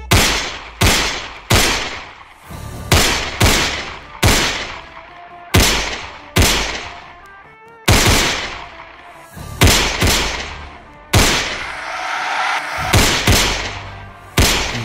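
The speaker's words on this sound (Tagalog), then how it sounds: "ang dalawang pistola naman niya ang kanyang hinugot. At walang tigil ding pinaputok sa mga nilalang hanggang sa maubos ang bala nito." Two pistols fire in rapid, repeated bursts, a string of loud sharp gunshot cracks with short decaying tails, spaced irregularly and sounding close.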